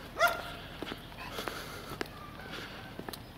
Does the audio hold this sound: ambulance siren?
no